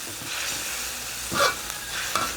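Sun-dried pork stir-fried in a pan, with soft sizzling and frying hiss broken by a couple of scraping stirs of a utensil. Heard close up, with no voices.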